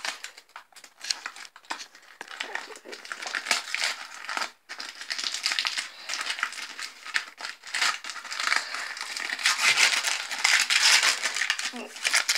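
Someone tears and crinkles thin transparent material, a steady run of crackling and ripping that goes on throughout and grows busier toward the end.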